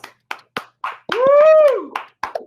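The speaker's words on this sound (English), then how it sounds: "Let's give our third place winner a round of applause" Scattered audience clapping at a student soapbox speech competition, a handful of sharp, separate claps spread across the moment, with a loud rising and falling whoop or whistle of cheering in the middle.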